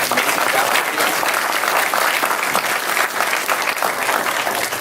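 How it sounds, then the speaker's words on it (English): Sustained applause from a movie theater audience at South Lamar during a film Q&A, dense steady clapping throughout with a faint crowd murmur underneath. "You guys got to give a huge round of applause for the wait staff here tonight at South Lamar"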